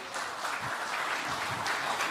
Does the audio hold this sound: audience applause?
yes